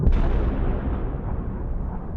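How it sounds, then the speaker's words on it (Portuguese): A loud, close blast from Israeli military bombing of Hamas infrastructure in the Gaza Strip, opening with a sharp crack and then rolling into a long, heavy rumble that fades only slowly. "O vídeo divulgado pelos militares israelenses mostra bombardeios em infraestruturas do Hamas na faixa de Gaza."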